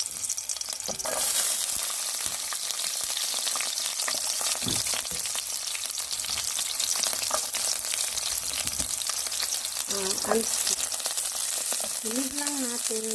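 Garlic sizzles steadily in hot cooking oil, a dense continuous crackle with occasional stirring scrapes, while a voice talks briefly near the end.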